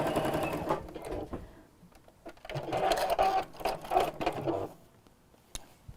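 A sewing machine stitches a wiggly weave bag in bursts, whirring steadily, pausing, then running again at close range with no talking.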